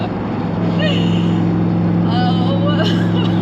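A Lamborghini engine roars loud and steady at high revs, a sustained drone with rising whine above it, while excited voices shout over it.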